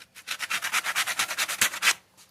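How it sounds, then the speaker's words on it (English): Rhythmic back-and-forth sandpaper strokes on a handmade fishing rod holder, about a dozen close, steady rasping passes in quick succession, then a brief pause. "So here, I'll sand it down."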